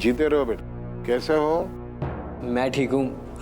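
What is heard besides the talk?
No everyday noises stand out.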